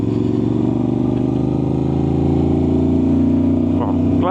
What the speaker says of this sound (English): Like short shifting everywhere I go to try and keep the sound down on this bike.